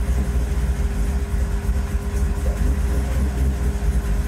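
A car's engine idles steadily and close by, a constant low rumble with a faint tonal hum and no change in pitch, heard on its own without voices.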